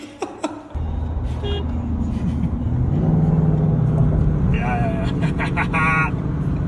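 Ford Mustang driving on the road to the Spa-Francorchamps circuit in Belgium: a steady interior rumble and engine drone that builds after a quiet start and continues under people talking, with a few brief higher tones near the end.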